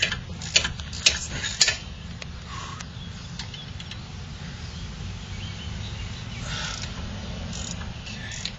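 Ratchet loosening the brake caliper bolts on a 2005 Pontiac Montana, a few quick close clicking bursts near the start followed by quieter faint ticking over a low steady background hum.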